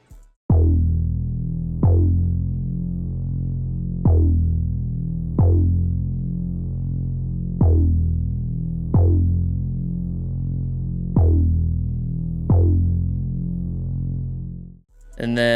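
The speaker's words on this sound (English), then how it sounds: "This bass is from my 2K kit." Fungi bass synth sample from a 2K kit, a deep sustained bass note retriggered about every 1.3 seconds in a steady, even pulse, each hit decaying slightly before the next, heard alone and loud.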